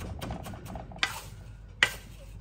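Spoon mixing lumpy food in a pot gives soft scraping and stirring with two sharper clinks against the vessel, close and quiet, with no speech.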